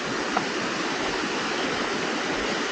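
Water released to flow down rice terraces, a steady broadband rush like a stream or small cascade, continuous and fairly close with no voices.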